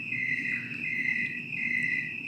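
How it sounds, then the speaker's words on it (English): Crickets chirping at night in a garden, a steady high trill that pulses slightly, alone and at a moderate distance. "And you can hear those crickets."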